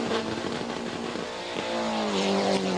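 A 1994 Group N Ford Escort rally car of about 300 horsepower leaves the start of a stage at Rally Zlatni in Bulgaria, its engine roaring loudly and rising in pitch as it accelerates away.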